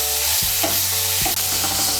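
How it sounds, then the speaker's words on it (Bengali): Onion paste being stirred into hot oil in a pan for masala soybean, a steady close sizzle with a few scraping stir strokes, no talking. "পেঁয়াজ বাটাটাকে তেলের সঙ্গে ভালো করে মিশিয়ে নেব"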